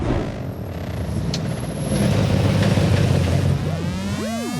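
A Sin R1 Bulgarian race-going supercar approaches with a steady, loud low engine drone and road rumble, then sweeping rising-and-falling tones near the end as it arrives close by.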